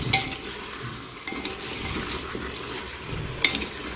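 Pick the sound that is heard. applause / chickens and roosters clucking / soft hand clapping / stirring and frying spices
stirring and frying spices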